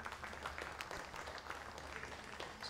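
Spectators applaud the eighth-place shooter leaving the firing line at a pistol shooting final, a faint, steady patter of clapping heard from a distance throughout.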